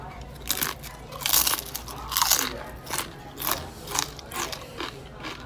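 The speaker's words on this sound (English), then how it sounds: "Well, they're kind of crispy. They don't look crispy, but they definitely are." Crispy Saratoga potato chips dipped in barbecue sauce and eaten at an Eat'n Park in Cuyahoga Falls, Ohio, loud close crunches repeating in an uneven chewing rhythm with no talking.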